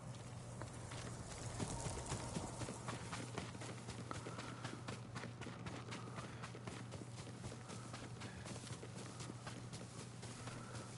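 Horse hooves clip-clop steadily at a quick gait in the Ghost of Tsushima video game, a continuous rhythmic patter over a constant low hum and ambient game background.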